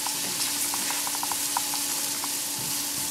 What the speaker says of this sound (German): Und mein Lauch ein bisschen andünsten.